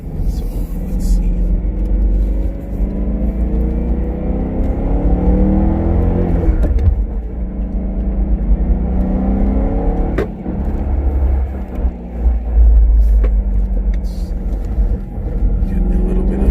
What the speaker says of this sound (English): Getting a little bit of spirited driving in.